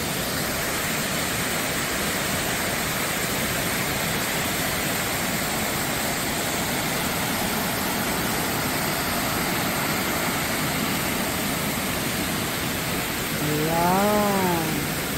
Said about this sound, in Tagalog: Ayan, ayan po yung another falls.